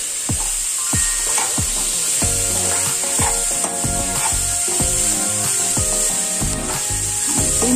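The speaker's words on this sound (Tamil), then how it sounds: "எண்ணெயிலேயே நல்லா வதங்கிட்டேன்." Cluster beans sautéing in oil in a pan give a steady, soft sizzle, broken by repeated scraping stirs of a spoon against the pan.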